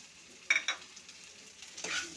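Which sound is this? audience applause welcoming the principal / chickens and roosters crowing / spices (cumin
spices (cumin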